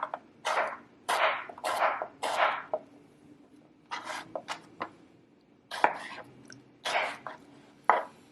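A knife chops a cucumber into cubes on a cutting board, giving bursts of quick crisp knocks with short pauses between runs, close and fairly quiet.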